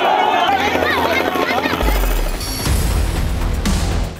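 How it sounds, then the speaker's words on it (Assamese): A helicopter used for election campaigning in Assam gives off a loud, steady rotor and engine roar that deepens partway through, with voices of a crowd mixed in. "হেলিকপ্টাৰেৰে নিৰ্বাচনী প্ৰচাৰ কৰিছে আজমলে"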